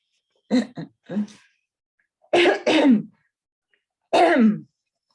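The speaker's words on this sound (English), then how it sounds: "I'm just going to cough a moment." Several rough throat clearings and coughs in close succession, close and fairly loud, separated by silence, no talking.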